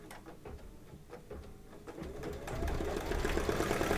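An embroidery machine stitches a stained glass bouquet design in a steady, continuous mechanical whir that grows louder and denser toward the end, with no talking.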